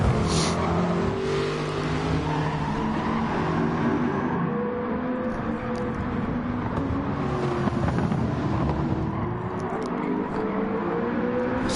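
Race cars lapping the Fuji circuit in a PS4 racing game, engines droning and revving loudly and continuously, with several cars overlapping and shifting pitch as they pass.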